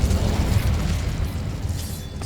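Incendio fire spell cast in Hogwarts Legacy, a dense roaring whoosh of flame with deep booming rumble and crackle, loud and close, sustained over about two seconds before easing off.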